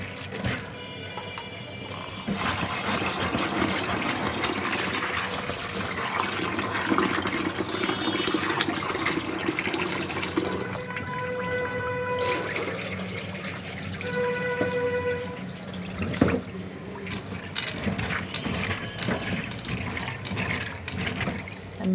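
Tap water running steadily into a bowl or sink while food is rinsed several times, a continuous splashing wash with brief clinks of handling and no talking.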